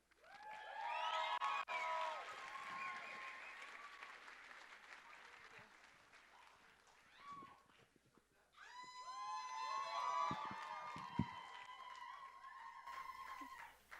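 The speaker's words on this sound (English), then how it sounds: "Let's everybody give a round of applause for Nezek Sankari" Loud audience applause and cheering at a human rights rally in Chicago, sustained for several seconds, dipping briefly, then swelling again with whoops and raised voices in the crowd.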